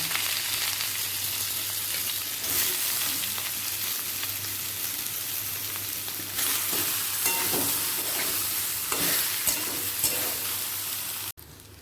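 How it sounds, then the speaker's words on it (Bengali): Soybean chunks and potatoes fry together in a pan, giving a loud continuous sizzle with scraping stirs that flare now and then before cutting off abruptly at the end. "সয়াবিনগুলোকে আলুর সাথে ভেজে নেবো"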